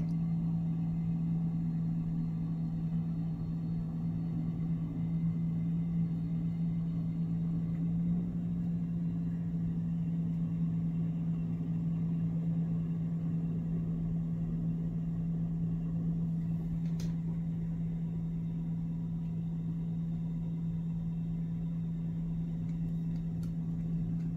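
A tractor engine idling on a frosty day in Norway, with a steady, low, rumbling hum that holds constant throughout, fairly close, with no voices.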